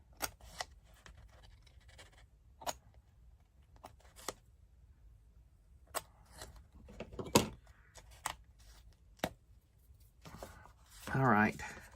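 Scissors snip a paper junk mail envelope, cutting a small V, in a few sharp, close, quiet clicks spread out over quiet pauses, with a louder crunch of paper near the end.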